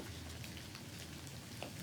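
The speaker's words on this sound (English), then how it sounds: "as the rain starts to come down" Steady rain falls in a continuous hiss of drops on a surface, an even ambience with no voices.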